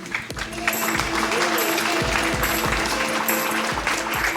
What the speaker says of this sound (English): This guy needs a round of applause